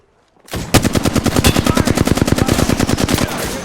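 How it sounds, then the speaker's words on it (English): A loud, close, sustained stream of automatic machine gun fire in Apex Legends erupts after a brief silence. Rapid even shots hammer on for about three seconds with no voices. "Getting shot at."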